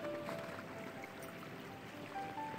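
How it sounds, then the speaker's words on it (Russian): A small, shallow, clear creek in Alaska's Chester Creek city park, left unfrozen in a minus 12 degree winter, flows with a steady, soft wash of water, continuous and moderately close, with no voices. "Сейчас посмотрим на эту маленькую реку. А вот она бежит."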